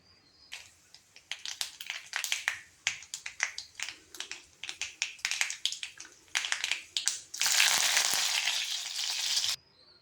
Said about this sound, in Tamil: இப்போ தாளிச்சிடலாம்.